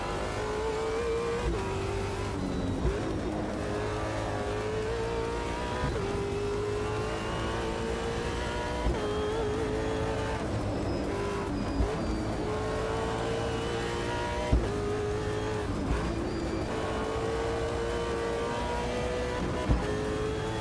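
Race car engine in the sim racing game Automobilista 2, a steady droning roar with rising and falling revs through gear changes, loud and continuous throughout with no talk.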